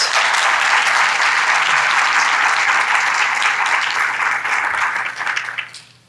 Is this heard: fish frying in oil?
no